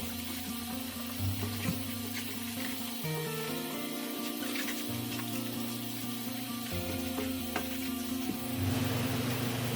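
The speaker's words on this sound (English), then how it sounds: "we remove the outer leaves and rinse the inside well" Savoy cabbage leaves rinsed under a running kitchen tap, a steady rushing stream of water with shifting splashing tones as the leaves move, close and continuous with no talking.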